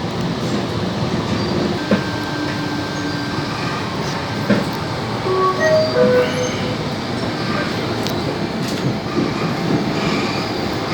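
Onboard a Sydney suburban train travelling near Redfern: a loud, constant rumble of wheels on track, with rhythmic clicks, brief squeals and tonal whines rising and falling throughout.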